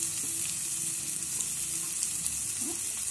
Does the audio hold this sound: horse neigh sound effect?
no